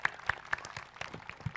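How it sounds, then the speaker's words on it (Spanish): An audience at a school inauguration gives a short burst of applause, scattered claps heard fairly faint and thin, tapering off within a couple of seconds. "Un aplauso, por favor."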